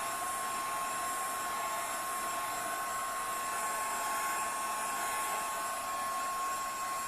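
A heat tool blows steadily to melt embossing powder on a Christmas cardinal gift tag, giving a continuous loud hair-dryer-like whoosh and hum that runs unchanged throughout with no speech.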